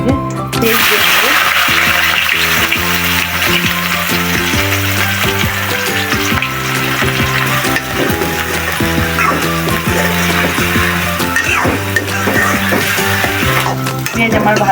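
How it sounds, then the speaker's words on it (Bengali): Onions fry in hot oil with cinnamon, cardamom and bay leaves while being stirred; a loud, continuous sizzle with scraping spoon clicks runs throughout over a steady tonal background. "পেঁয়াজ আমার ভাজা ভাজা হয়ে গেছে"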